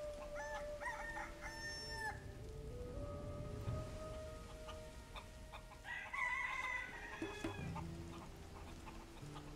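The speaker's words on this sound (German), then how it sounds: "Hier gibt's Hühner." Chickens cluck and a rooster crows in a Gothic 3 game village, fairly close and clear over a steady rain-like ambient hiss and soft background music.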